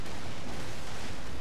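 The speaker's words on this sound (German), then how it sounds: "Und jetzt kommt deine geballte Salve rein." Cannon broadside salvo from sailing warships in Empire: Total War, a naval battle between Spain and France, heard as a dense continuous rumble of overlapping booms and blasts with no clear separate shots.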